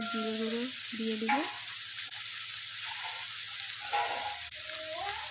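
Chicken frying in a pan with salt, turmeric and cumin, giving a steady, close sizzle. Brief scraping stir sounds and a faint, tonal squeak from the utensil come through at moments.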